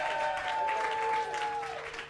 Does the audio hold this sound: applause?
yes